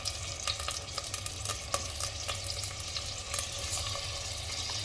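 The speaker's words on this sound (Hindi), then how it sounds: "तेल के गर्म होते ही इसमें टिंडे डाल दीजिए" Tinda gourd and potato pieces frying in hot oil in a pan, a steady dense sizzle and crackle with occasional sharper pops, close and continuous.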